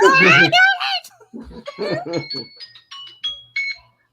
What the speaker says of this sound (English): that's such a happy little chime, too.